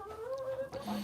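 Backyard flock chickens clucking close by, a hen's drawn-out tonal call followed by shorter clucks in a quick, irregular burst.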